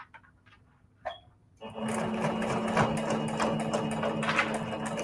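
Sewing machine tacking down a quilted fabric heart cut from shabby fabric, starting after a few quiet clicks with a steady, close, fast mechanical whir of stitching.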